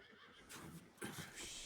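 A horse in the Red Dead Redemption 2 video game neighs in two loud, close whinnies, the second stronger, with faint hoof movement beneath.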